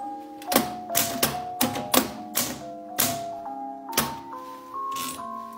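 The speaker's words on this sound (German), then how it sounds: "20 Euro wären in etwa so getippt worden." A 1970s or 1980s portable travel typewriter taps out a short sequence of about a dozen sharp keystrokes at an uneven pace, each strike crisp and close, followed by a brief mechanical whir.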